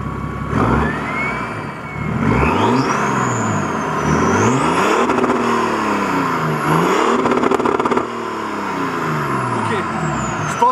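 A 400-horsepower car engine revs hard in repeated rising and falling sweeps, loud and close, with high whines and crackling bursts between pulls.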